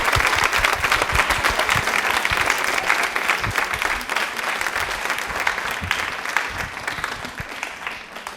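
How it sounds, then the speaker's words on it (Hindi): A television quiz-show studio audience claps steadily for a guest, a dense, even patter of many hands sustained throughout and tapering slightly at the end. "ताली एक बार डॉक्टर साहब के लिए जोरदार होनी चाहिए।"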